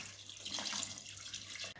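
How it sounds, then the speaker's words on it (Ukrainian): Cold water pours steadily into a pot of meat for homemade kholodets, a continuous close rushing splash that stops abruptly near the end. "В кінці я додаю воду, звичайно, холодну."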